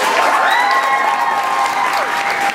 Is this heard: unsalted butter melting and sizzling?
no